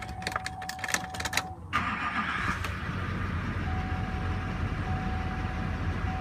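A 2006 Chevy Silverado LBZ diesel pickup engine, at 281,731 miles, cranks with quick ticking turns, catches, and settles into a steady, low idling rumble heard close up under the hood.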